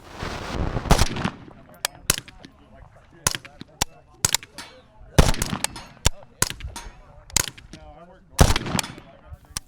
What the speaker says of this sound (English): The next AK I'm shooting is G5.